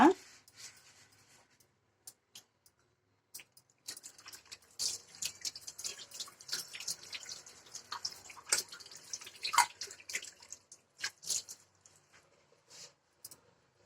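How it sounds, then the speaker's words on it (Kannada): Water trickles and drips intermittently from a tap as something is washed with soap and rinsed by hand. Soft scrubbing sounds come and go over a quiet background, and a voice speaks in places. "ಸೋಪ್ ಹಾಕಿ ತೊಳಿತೀನಿ"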